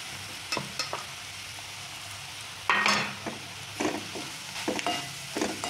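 Crumbled leftover chapati tossed with chilli powder and turmeric in a hot pan on lowered gas, giving a steady close sizzle broken by scraping spoon strokes and a louder burst of frying midway; no one speaks.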